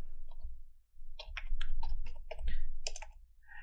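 Typing on a computer keyboard in a Windows 11 command prompt session, a quick burst of close, crisp key clicks in an uneven rhythm that pauses briefly after the first few presses.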